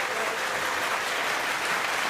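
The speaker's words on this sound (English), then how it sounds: "Ladies and gentlemen, give Jim a big round of applause." An audience at a live awards show claps steadily for a departing contestant, a dense, even wash of applause with no voices standing out.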